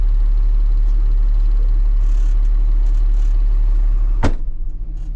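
Tanker truck engine idling with its PTO engaged, a steady loud low rumble throughout, broken by a sharp click or clunk near the end.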